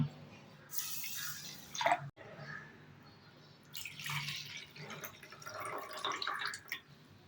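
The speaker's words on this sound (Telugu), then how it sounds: "జొన్న రవ్వ ఒక కప్పు తీసుకొని శుభ్రంగా వాష్ చేసుకుందాం" Jowar (sorghum) semolina is washed in water in a kitchen, with close splashing, swishing and dripping in irregular bursts of varying loudness.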